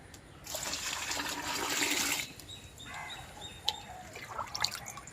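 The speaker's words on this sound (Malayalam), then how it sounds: "അതിന് മൂന്ന് ലിറ്റർ വെള്ളം ഒഴിച്ചു" Water pours in a steady rush for about two seconds, then stops, leaving a few scattered drips and small splashes, as three litres go into an organic fertilizer slurry mix.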